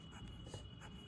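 A pen or pencil moves across paper in soft, steady scratching strokes, close and quiet, with no talking.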